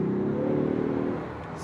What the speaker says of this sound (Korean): 배기음이 지금 이 차가 4기통 엔진인데도 배기음은 꽤 괜찮습니다